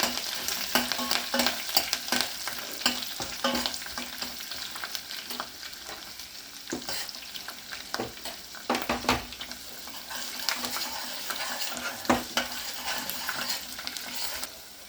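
Dried and green chillies, garlic, curry leaves and ginger sizzle in hot oil as a tempering for snake gourd curry, with a steady crackling fry, a spoon repeatedly scraping and stirring the pan, and no talk.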